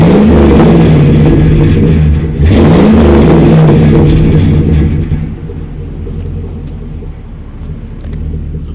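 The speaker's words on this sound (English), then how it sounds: "And we have the dual exhaust in the back. Listen to this." A 2003 Chevy Avalanche truck with a K&N cold air intake and Flowmaster 50 series dual exhaust revs loudly and deeply twice up close, then drops back to a lower, steady rumbling idle.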